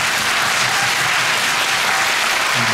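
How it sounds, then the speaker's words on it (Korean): Dense, steady applause fills a theatre at the closing-night curtain call of the musical Kinky Boots, a broad continuous wash of many hands clapping with no talk over it. "그분들을 위해서 박수 한번 부탁드릴게요."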